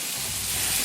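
Butter sizzles steadily and loudly in a hot pan as the base for Creole-style BBQ shrimp, a dense frying hiss with no talking.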